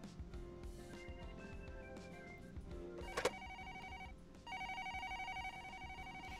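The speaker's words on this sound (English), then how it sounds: "I'm just answering the phone at this call center" Telephone ringing at a call center, a bright electronic ring with repeating tones standing out against a busy background of music and layered noise, the ring pattern growing steadier and louder in the latter half.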